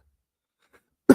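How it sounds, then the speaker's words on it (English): A single short cough, sudden and close, bursts out after near silence, from someone still recovering from an illness. "Still got a cough because I was sick a few weeks ago."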